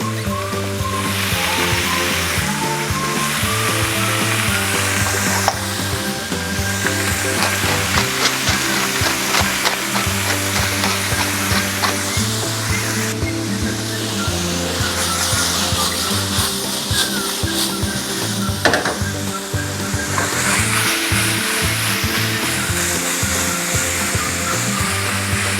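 Seasoned steak pieces for pepper steak brown in a pan with a continuous broad sizzle that stays loud and near, running under steady background music for the whole stretch.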